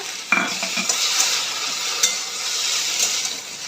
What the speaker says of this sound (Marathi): हा सॉस जो आपण बनवलेला ना हा बघा तो ह्याच्यामध्ये ॲड करायचा आहे